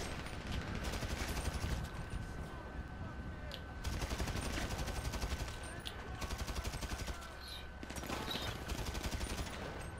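Rapid bursts of automatic gunfire from shooting enemies in GTA Online, dense repeated shots in several clusters with short gaps, loud and close throughout.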